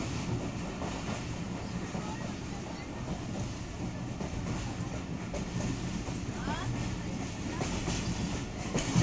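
A passenger express train rolls steadily along the rails near Lahore, a continuous low rumble with faint clattering, loud and close throughout.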